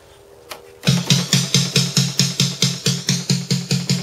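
Dry snare, no reverb, played through a Steven Slate drum sampler for metal: after a faint click, a loud, regular stream of quick, tight hits starts and keeps an even rhythm, each stroke decaying fast.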